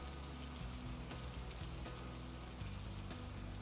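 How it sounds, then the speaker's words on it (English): Steady rain falls in the survival video game HurtWorld, a constant dense hiss spread across the whole clip with low, sustained game tones underneath and no talk. "Well, apparently, it rains on this game."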